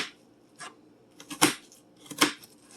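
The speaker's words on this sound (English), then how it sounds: "I like to cut my onions in half, and I cut long" A knife slices through an onion halved for chicken enchilada soup, giving three crisp chopping strikes at uneven intervals on a cutting board, close and clear with quiet pauses between.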